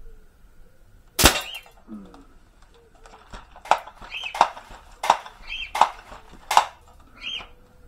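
A Crosman M4-177 air rifle is re-cocked up close: one sharp crack, then a quick rhythmic run of mechanical clicks and snaps.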